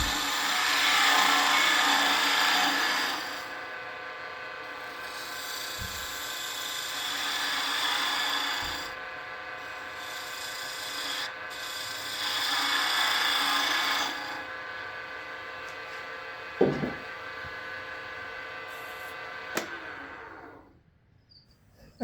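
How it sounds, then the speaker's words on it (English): A 1/2-inch spindle gouge shaping a wooden top on a lathe gives a steady scraping hiss in several long passes, broken by short pauses and a few sharp knocks, fairly quiet with no voices. "Now we'll finish shaping the top with a 1/2-inch spindle gouge."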